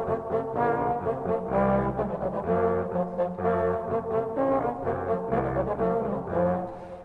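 Serpents, the antique snake-shaped brass wind instruments, are played by a trio. Deep, horn-like sustained tones blend in continuous ensemble harmony for several seconds, full and resonant, with no speech.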